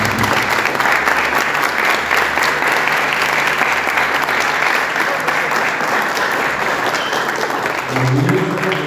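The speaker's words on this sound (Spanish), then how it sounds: "Yo les solicito a ustedes un caluroso aplauso" Warm, steady applause from a symposium audience, dense and loud from start to finish, with a faint murmur of voices near the end.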